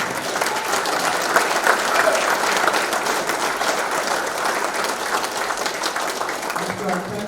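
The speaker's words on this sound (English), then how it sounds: "Give them a huge round of applause" A large crowd applauds at an awards ceremony as honourees are named, loud, dense and steady clapping with some cheering that carries on unbroken before easing slightly at the end.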